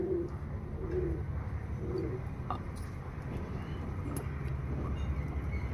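Pigeons cooing in a loft of fancy breeding pigeons, soft repeated coos over a steady low background rumble, with occasional faint chirps.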